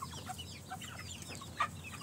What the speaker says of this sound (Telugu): అది చిన్న పిల్లల కోడి.